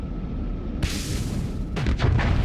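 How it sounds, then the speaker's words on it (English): A weapon impact explosion on a ship in the space combat game Starsector: a sudden loud burst rolls into a rumbling boom, followed by a cluster of further crackling blasts, all close and dense. "That was a brutal engine-destroying impact."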